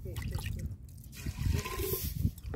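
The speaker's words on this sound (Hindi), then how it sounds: "अब इसमें थोड़ा पानी डाल लेती हूँ" Water is poured into a pot of khichdi cooking over a cow-dung cake fire in a village kitchen, a steady splashing pour with trickling under low background noise.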